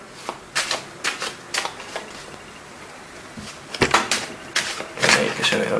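A deck of playing cards being shuffled by hand during a magic trick, giving short bursts of riffling and flicking close by, spaced out with brief pauses and a louder flurry near the end.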